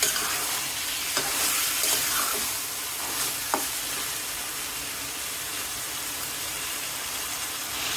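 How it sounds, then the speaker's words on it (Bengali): Amaranth stems sizzle steadily in a hot pan while being stir-fried for a prawn dish, with occasional scrapes of stirring over a continuous close frying hiss and no talking. "এই তো ডাটা কষানো হয়ে গিয়েছে।"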